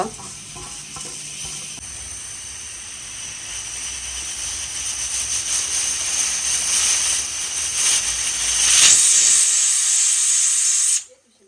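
A pressure cooker whistles and vents steam while cooking mutton boti. A loud, steady hiss builds over about eleven seconds, peaks near the end and then cuts off abruptly.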